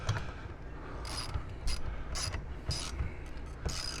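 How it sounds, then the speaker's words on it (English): Ratcheting clicks from tightening the mount of an RV flagpole, several short bursts of metallic ratchet sound repeated at a steady pace, close-up and moderately loud. "And now we're going to tighten down"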